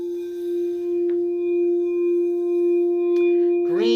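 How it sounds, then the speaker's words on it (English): Green singing bowl ringing with a pure, sustained metallic tone and faint overtones, steady and close, with a light tap partway through and a brief brighter strike near the end. "And let me get the green singing bowl."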